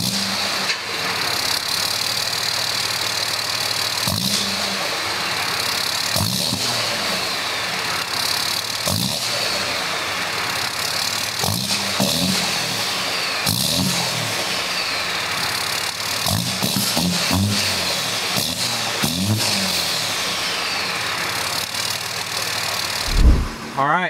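A Cummins diesel dually truck with a stock turbo idles loudly, then is revved several times in short bursts that rise and fall over the steady engine rumble.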